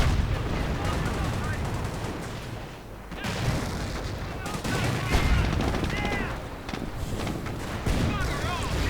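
Video game battle with StuG assault guns and infantry firing, a dense, continuous roar of overlapping gunfire and heavy booms with scattered louder shots throughout.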